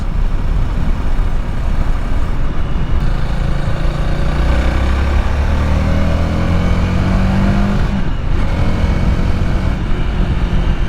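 A Honda Rebel 300 motorcycle fitted with a K&N air filter runs loud and continuous while riding, its engine pitch climbing and falling through the revs, with a short dip around eight seconds and no talk.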